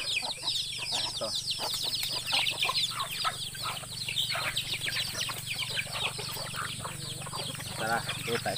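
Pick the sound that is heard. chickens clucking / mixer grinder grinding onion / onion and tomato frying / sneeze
chickens clucking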